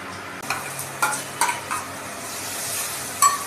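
Paste hits hot oil in a karahi and sizzles steadily, with several sharp stirring scrapes and clicks of a spoon against the pan, close and fairly loud.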